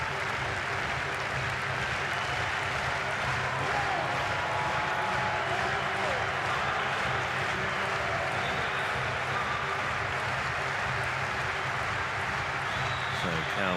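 A stadium crowd at the European Athletics Championships in Munich applauds a hammer thrower, a steady, dense wash of clapping and crowd noise that continues evenly under a commentator's talk.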